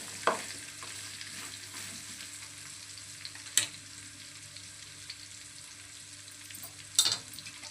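Onions frying in a pan for dondakaya ullipaya karam make a soft continuous sizzle, with a few sharp clicks of a spatula against the pan near the start, middle and end.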